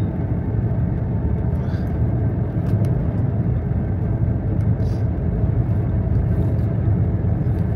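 A car drives along a paved road high in the mountains, its engine and tyres producing a loud, continuous low rumble that holds steady and close throughout, with no voices over it.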